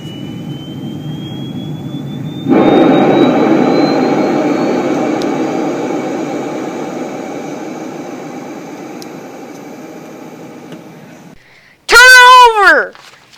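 A jet aircraft engine warming up before takeoff, a loud continuous roar with a rising whine that surges in strength, holds and slowly fades, then cuts off before a burst of loud talk near the end.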